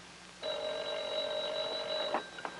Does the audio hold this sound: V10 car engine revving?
no